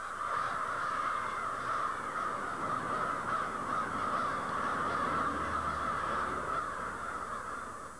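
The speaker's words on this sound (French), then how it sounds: "Les corneilles sont, paraît-il, de nature enjouée et s'apprivoisent facilement" Crows cawing in a steady, continuous chorus of harsh calls, fairly loud and dense throughout with no talking.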